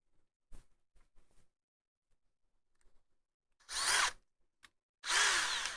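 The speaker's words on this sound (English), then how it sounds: "drill." Two loud bursts of a power drill whirring, each about a second long, separated by quiet with faint clicks and handling noises.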